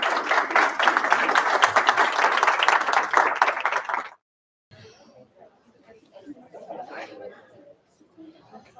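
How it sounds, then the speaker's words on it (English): A high school auditorium audience at a principal candidate forum claps loudly and continuously for about four seconds, then the applause cuts off abruptly, leaving quiet chatter and a few murmuring voices. "Round of applause."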